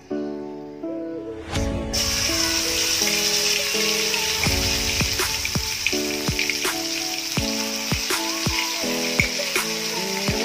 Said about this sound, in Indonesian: sekarang kita tumis sampai merata sampai matang